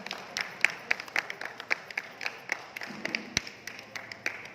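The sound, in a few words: audience applause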